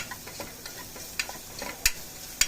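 Carrots, onions and beans frying in a pan, a soft sizzle with light clicks and a couple of sharp knocks as the vegetables are moved around, close by, without talking.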